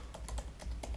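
Quick, light keystrokes clatter on a computer keyboard while code is typed, about five close taps within a second.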